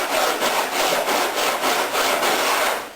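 A hand rasp files the edge of a faired seam, its steady back-and-forth strokes rasping loud and close in an even rhythm of about seven passes.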